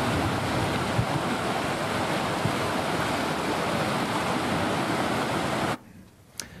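Steady, loud rushing water on an artificial, pump-recirculated canoe slalom course, a dense broadband roar that holds for several seconds before cutting off abruptly to near quiet.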